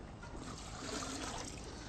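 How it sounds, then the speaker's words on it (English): Water poured over meat in a cooking pot, a soft continuous trickling and splashing, close and fairly faint, with no talk. "make sure you just cover it with a little water"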